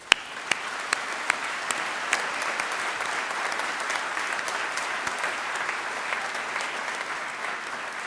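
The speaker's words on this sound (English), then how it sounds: "can we give a round of applause both to yourselves and to all the people that have helped you?" Graduation ceremony audience for the School of Psychology and the School of Natural and Built Environment applauds steadily, a dense, even wash of many hands clapping throughout with a few sharper claps near the start.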